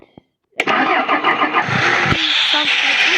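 A car engine in a restored MB-124 cranks and catches after a brief quiet pause, then settles into a loud, close, steady running rumble with some fluctuation, with a voice briefly audible near the start.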